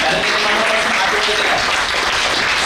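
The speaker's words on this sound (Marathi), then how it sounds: "मॅडम साठी टाळ्या वाजवा जरा" A crowd at an anniversary and rank-achiever celebration claps for a woman, a steady wash of applause with some voices mixed in.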